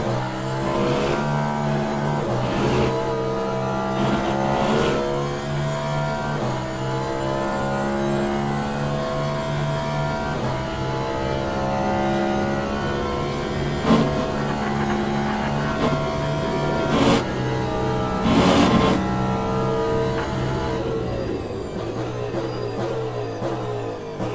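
A hypercar engine racing at COTA in the Le Mans Ultimate sim, a loud continuous whining roar that rises and falls through gear shifts and braking, with no voices over it.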